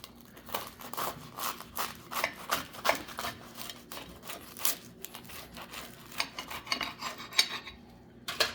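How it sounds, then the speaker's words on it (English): A homemade sandwich being cut with a serrated knife, a series of short, close scraping and sawing strokes with light clinks against a plate, fairly quiet, with no talking. "I had my serrated knife over here for cutting"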